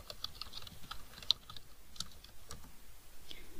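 Typing on a computer keyboard while entering web addresses and login credentials: scattered, light key clicks at an irregular pace throughout, fairly faint and close, with no talk.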